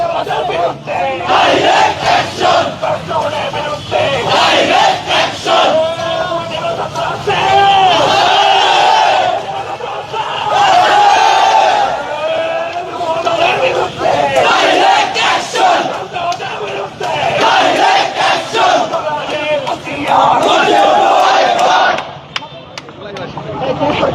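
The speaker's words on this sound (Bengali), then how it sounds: "তারা কিন্তু এই মুহূর্তে স্লোগান দিয়ে এগিয়ে যাচ্ছেন" A large crowd of student protesters chants slogans in loud unison while marching, rhythmic massed voices rising and falling over steady crowd roar, close and continuous throughout.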